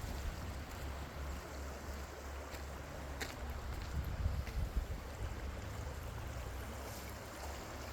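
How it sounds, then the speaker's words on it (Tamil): A stream flowing in the countryside on the outskirts of Aalborg, Denmark, near an old mill, making a steady broadband rush of water that carries on unbroken, with faint wind in the background. "அழகான ஓடை."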